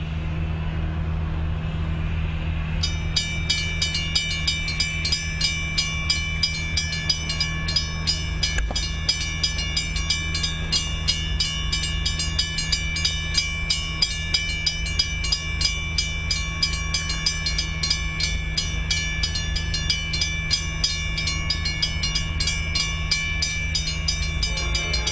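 An eastbound freight train approaches on the railroad near Tacna, Arizona, a low rumble joined by a dense, rhythmic clatter of wheels and cars that builds and holds loud for over twenty seconds.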